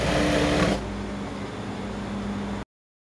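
A sewing machine stitches corset panels for a basque corset, a louder fast run at the start easing into a steady, even mechanical whir that stops abruptly.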